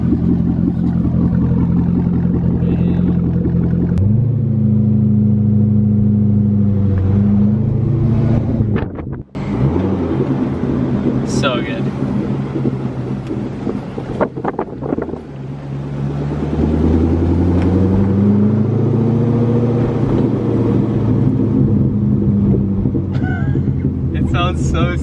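Loud rumbling idle from a Chevrolet Corvette after a muffler delete, punctuated by several rises and falls in revs, heard up close with wind buffeting the microphone at times.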